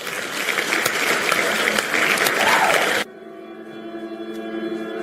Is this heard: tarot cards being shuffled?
no